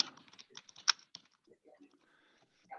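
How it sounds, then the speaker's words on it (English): Quick, light computer keyboard taps in a short burst, close and fairly quiet, with a few scattered clicks trailing off. "This is where my typing comes through"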